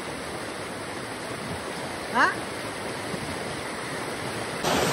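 A river running full after continuous rain, heard as a broad, steady rush of water close by that fills the whole stretch, with a brief voice partway through and a sudden shift in the roar near the end.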